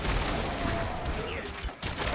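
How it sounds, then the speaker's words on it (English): Loud, chaotic bursts of Diablo 4 explosions and gunfire blend into a dense roar, briefly dropping out near the end before resuming. "Big explosions."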